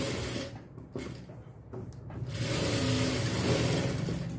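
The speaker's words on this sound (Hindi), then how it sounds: "सिलाई हमें बिल्कुल पास से लगानी है फ्रेंड्स।" A sewing machine stitches blouse fabric with a steady, close mechanical whir, slightly uneven at first and then running smoothly and a little louder toward the end.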